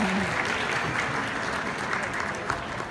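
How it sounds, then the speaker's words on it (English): Steady, dense applause fills a gala banquet hall from a large seated audience, continuous and even throughout with a few sharper claps near the end. "Go right ahead. You can clap."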